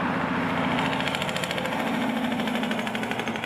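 A tractor-trailer truck with its air brakes on fire rumbles past on a hillside road, a loud, steady engine roar with a throbbing vibration that holds for a few seconds without talk.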